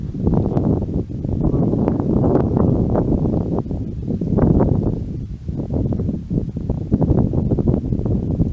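Steady wind blows across a microphone outdoors on a sunny, chilly day, a continuous low rushing roar with gusty swells and no speech.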